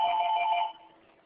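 A telephone ringtone trills steadily for under a second during an online webinar, then cuts off, leaving faint background noise.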